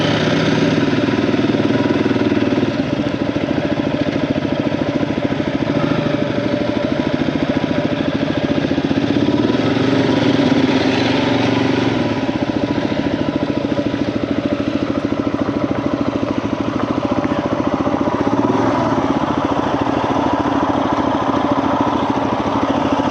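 A KTM EXC-F dirt bike engine runs steadily in the Arizona desert near Quartzsite, a loud, continuous buzzing drone that holds a fairly even pitch with slight surges, no voices.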